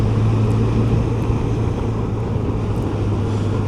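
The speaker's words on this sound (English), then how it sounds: "This 4-cylinder engine is so smooth, and it's got torque all the way through." A Suzuki GSX1400 four-cylinder motorcycle engine runs steadily while riding, a smooth continuous low hum mixed with heavy wind rush, with no pauses or revving changes.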